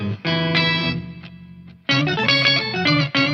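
Electric guitar through an octave pedal set two octaves down, thick low chords sustaining and swelling, a quieter held passage in the middle, then loud strummed chords with an organ-like tone.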